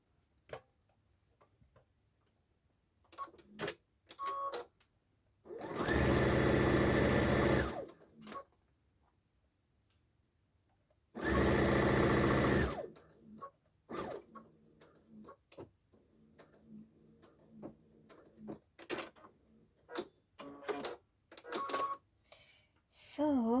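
A sewing machine stitches the ends of a fabric scrunchie in two loud, steady buzzing runs of about two seconds each, separated and surrounded by quiet ticks, clicks and fabric handling.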